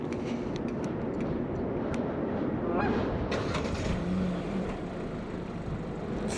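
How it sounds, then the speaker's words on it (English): A 2024 Hyundai Kona N Line with a 1.6-liter turbocharged inline-four engine makes a semi-cold start. A brief starter whir gives way to a steady, muffled idle that stays fairly quiet and close. "And let's do a quick little semi-cold start."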